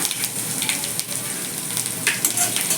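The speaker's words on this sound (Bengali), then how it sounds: "এবার ওই তেলের মধ্যেই কালো জিরাটা ফোড়ন দিয়ে দিলাম" Black cumin seeds and chopped garlic sizzle in hot oil for a vegetarian kalmi shak curry, a bright continuous crackle punctuated by light stirring taps close by.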